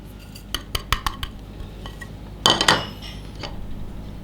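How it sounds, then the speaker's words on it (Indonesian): Seasoning of salt, powdered stock, pepper and crushed garlic stirred into food in a bowl, heard as a quick run of sharp utensil clinks against the bowl, then a louder scraping burst and quieter clatter, with no voices. "Dan aduk lagi sampai tercampur rata."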